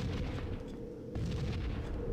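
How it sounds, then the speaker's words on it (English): Rocket launcher explosions in a Halo CE multiplayer capture-the-flag battle. Heavy booming blasts overlap into a dense, loud rumble, with a brief lull midway before more detonations follow. "Rocket launcher."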